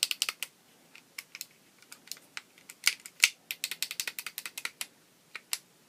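Bicycle click shifter being worked by hand, giving rapid bursts of crisp, close mechanical clicks and ratcheting ticks in uneven clusters with short pauses between them.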